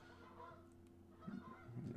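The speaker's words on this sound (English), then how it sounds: "got some geese outside my window here flying over." Geese flying past outside a window give faint, distant honks that rise toward the end, muffled against a low indoor hum.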